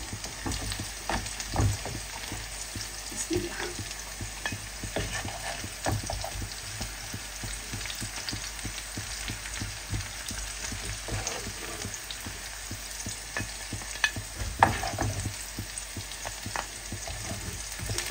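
Fish fries crisply in a pan, a constant close crackle of popping oil with frequent sharp spits and light stirring sounds over a long, even stretch.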